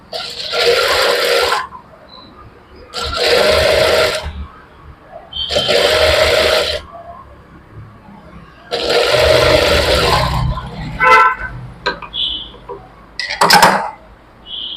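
A sewing machine stitches a blouse lining in several loud bursts of rapid mechanical whirring, each lasting one to two seconds with pauses between, ending with shorter clicks and brief runs.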